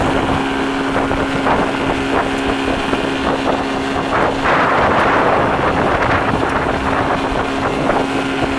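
A 1965 Johnson outboard motor runs steadily on a moving boat. Its constant engine drone is joined by wind buffeting the microphone, and no one speaks.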